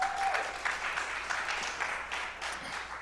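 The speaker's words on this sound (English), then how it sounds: "So please give another warm round of applause." Audience applause for a jazz trio fills a club room with steady, dense clapping that holds at a fairly even level before tapering slightly, with scattered cheers mixed in.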